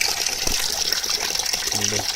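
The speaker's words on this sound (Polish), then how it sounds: "Zaczyna lecieć woda." Water starting to flow from a tap on a municipal supply line after trapped air has been blown out, a steady close hissing rush with a brief low hum near the end.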